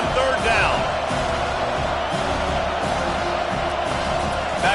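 A home crowd at a college football game between UVA and Miami roars steadily through a third-down defensive play, a dense sustained cheer heard under a commentator's talk.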